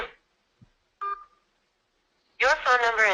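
Telephone keypad tones from pressing keys on an automated phone line with a callback queue: one brief, faint beep near the start, then a recorded voice speaks clearly afterward.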